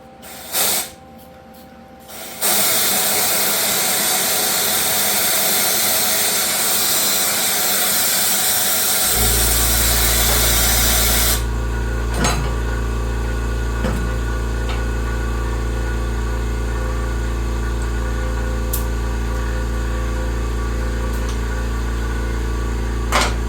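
A car's air compressor runs loudly and steadily during a pressure test on a C3 restomod exhaust system, preceded by short clicks and a burst of hissing air, then a sustained droning hum with occasional faint ticks.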